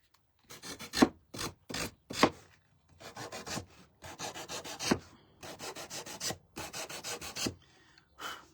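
Short rasping strokes from sanding or scraping the painted edges of a chicken garden stake, coming in quick bursts and clusters with brief pauses between them, close and clear.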